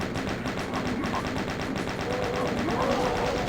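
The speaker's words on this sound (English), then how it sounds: "We're going to chain gun this Mancubus." Sustained rapid chain gun fire in a Doom map, aimed at a Mancubus, forming a dense, continuous loud mechanical rattle throughout with no voices.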